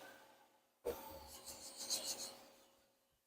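A foam pad scrubs a 1930s Heywood Wakefield wooden dresser in one steady, close rasping rub that swells and then trails off, with no talking.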